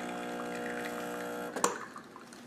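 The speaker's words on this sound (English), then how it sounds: "And as you can see, it's starting up." A Breville Barista espresso machine starts pulling a single shot, giving a steady droning pump hum followed by a brief gurgle and sputter as the brew begins, close and moderately quiet.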